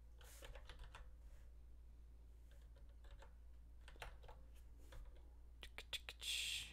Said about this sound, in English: Typing on phone.